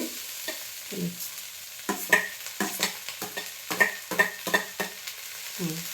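Onions being stirred and fried in a pan for mutton sambar, with repeated scraping strokes of a spoon over a soft sizzle, close and fairly quiet.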